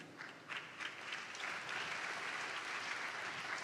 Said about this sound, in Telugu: చప్పట్లు కొట్టారు కదా